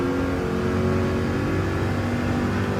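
A Group 3 Corvette race car at Fuji Speedway in Gran Turismo 7 drones steadily under acceleration in second gear, a loud, continuous engine roar with no talk.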